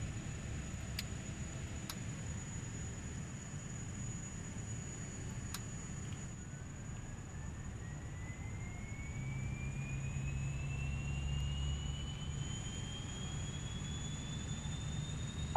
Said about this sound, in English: We'll go ahead and start engine number 1.